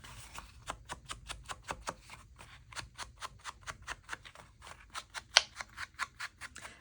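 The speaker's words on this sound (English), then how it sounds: "I also cut out some the photo slides, the Tim Holtz photo slides" Scissors snip through paper while a journal is being made, a quick run of rhythmic, close, crisp cuts repeating steadily with a few brief pauses and no talking.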